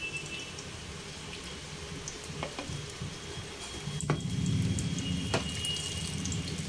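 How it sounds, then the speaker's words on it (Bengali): Eggplant fritters (beguni) deep-frying in hot oil over a medium flame, giving a steady soft sizzle and crackle with a few sharper pops, heard alone and fairly close. "প্রায় 3 থেকে 4 মিনিট মিডিয়াম ফ্লেমে ভেজে নেব।"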